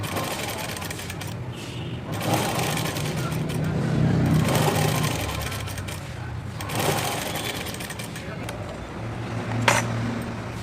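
A sewing machine stitches a blouse with a steady whirring drone that swells and eases in long runs, while someone talks over it throughout.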